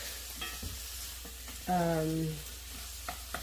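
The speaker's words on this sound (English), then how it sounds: "soften the green peppers, fry the onions, warm up the ham" Green peppers, onions and ham fry in a pan with a steady close sizzle, broken by a few scraping stirs and a brief tonal clink partway through.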